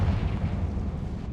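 Confringo blasting spell explosion in the video game Hogwarts Legacy, a deep rumbling boom with a heavy low-end burst that rolls on and slowly decays, loud and close with no talk.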